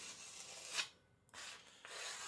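A custom 52100 steel Chinese cleaver scrapes across a natural sharpening stone in a few long, quiet rasping strokes separated by short pauses.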